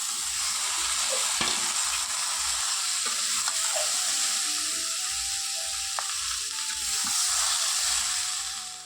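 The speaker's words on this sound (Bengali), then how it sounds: "এখন দেখো পেঁয়াজগুলো দিয়ে দিলাম" Onions frying and being stirred in a pan for a fish curry, a steady loud sizzle running throughout with soft scraping and clinks of the stirring spoon, close up and with no talking.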